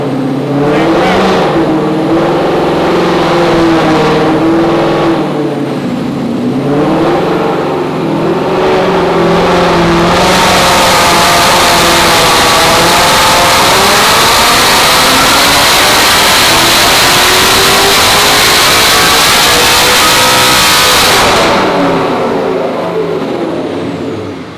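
Roush Mustang engine revving up toward 7,500 RPM, a loud close roar climbing in pitch through several gear pulls and holding a sustained high-rpm scream before easing off, with voices heard beneath it.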